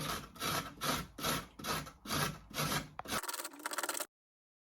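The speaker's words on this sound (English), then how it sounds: "Then we grate out the 2 carrots" Two carrots are rubbed against a grater in rhythmic back-and-forth strokes, about seven close rasping passes followed by a quicker run of shorter scrapes before the sound stops.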